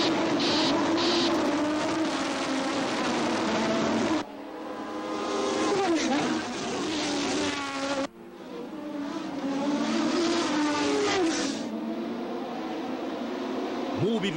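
Formula One race car engine roaring loud and close, with high revving whines and pitch sweeps as gears shift, over music and voices from a 1987 Mobil gasoline commercial.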